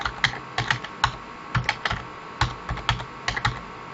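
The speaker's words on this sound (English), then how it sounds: "Then you can type your keywords." Keywords typed on a computer keyboard for a research paper search, with quick irregular clicks and key taps up close in a quiet room, no talking.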